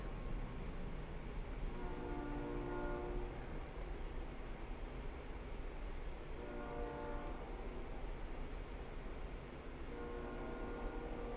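A train horn sounds in long sustained blasts, three separate soundings spaced across the stretch, over steady rumbling rail noise.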